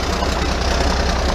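A Peterbilt 352 cabover truck's engine idles steadily to warm its oil, a loud, continuous rumble with a fast, even knock running through it and nothing else heard.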